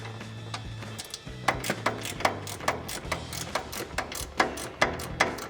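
A socket wrench ratchets a bolt loose on a Toyota Tacoma strut during a leveling strut extension install, giving a long run of evenly spaced, crisp clicks over a low hum at the start, with no talk.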